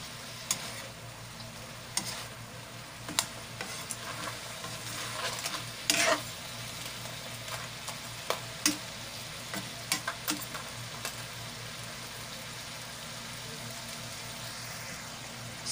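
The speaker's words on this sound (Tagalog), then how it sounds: "Kahit ginigisa ko pa lang po yan, wala pa po yung gata niya." Crab and string beans sizzle and fry steadily in a pan, a continuous hiss of sautéing punctuated by scattered clicks and scrapes of stirring, with no talking.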